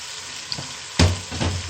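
Tomatoes and spices sizzle in a hot pan over low heat, with a few sharper pops and spatters as they are stirred, fairly close and moderately quiet.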